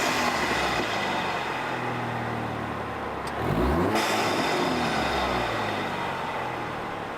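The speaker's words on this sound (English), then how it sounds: "We did our cheap blow-off valve," A car fitted with a cheap blow-off valve revs steadily, then a brief whooshing vent bursts out mid-way as the engine note dips and recovers, all close and loud with no talking.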